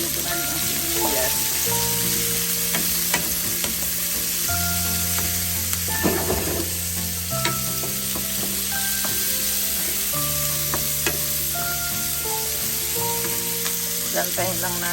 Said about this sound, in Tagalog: Inulo ko na rin ang sibuyas.